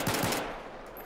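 Rapid burst of assault rifle fire in the video game Battlefield 4, a few quick loud shots up front trailing into a decaying echo tail, no voices.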